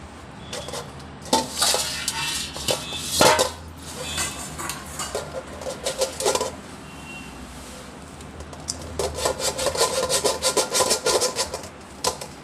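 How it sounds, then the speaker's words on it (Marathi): A kilogram of boiled potatoes, still warm, is grated by hand on a metal grater, with rough rhythmic scraping strokes in close bursts and a short lull midway. "इथे मी 1 किलो बटाटे उकळून घेतलेत, आता आपण ते किसून घेऊया।"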